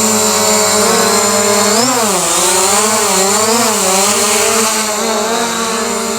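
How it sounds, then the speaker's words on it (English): Ruko F11 GIM2 drone hovering close by, its propellers giving a loud, steady high-pitched whine that rises and falls slightly in pitch as it shifts in the air, with no talking. "Just spin it around so you can see the drone itself."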